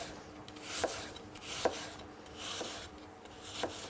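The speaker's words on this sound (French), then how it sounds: "avec votre couteau, vous allez commencer à tailler des lamelles de même épaisseur, le plus fin possible" A knife cuts half an apple into thin, even slices on a board, giving four soft, regular chopping strokes about a second apart, close and quiet.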